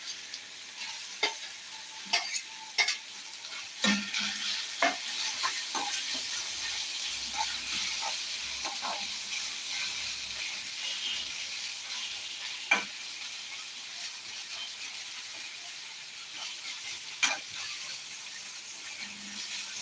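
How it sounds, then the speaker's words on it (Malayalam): Onions and tomato fry in a pan, giving a soft continuous sizzle under irregular spoon stirs and scrapes that click and knock now and then. The sound is fairly quiet and close, with no talking. "ആ സേവിച്ച തക്കാളി ഇട്ട് കൊടുത്തിട്ടുണ്ട് ഇനി ഇളക്കി കൊടുക്കാൻ നന്നായിട്ടൊന്ന് ഇളക്കി വെച്ചിട്ടുണ്ട്"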